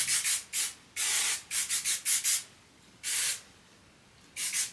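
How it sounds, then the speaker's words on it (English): Hairspray hissing onto freshly curled, tousled waves in close, sharp bursts: several short sprays, a longer blast, a quick run of rapid puffs, then two more long sprays with pauses between. "now I'm just gonna spray"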